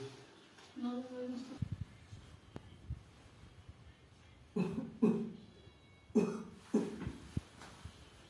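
Several short coughs come in bursts, loud and close, with quieter pauses between them.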